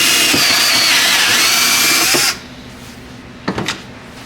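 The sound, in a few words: drilling a hole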